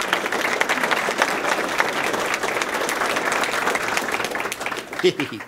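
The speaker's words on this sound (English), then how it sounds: "round of applause" A Google audience in Mountain View claps in sustained, dense applause for a talk by a Buddhist monk, steady throughout and fading at the end as a voice begins.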